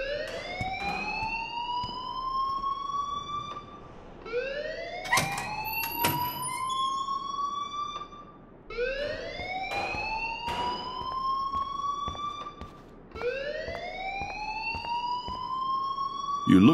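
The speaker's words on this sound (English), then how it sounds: "please turn off that alarm" A wailing, rising siren-like alarm sounds repeatedly in a school setting in the video game Life Is Strange, with four slow sweeping cycles over a steady background hum and some clatter.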